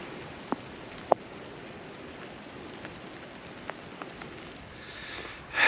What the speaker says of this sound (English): made it, and it started raining heavy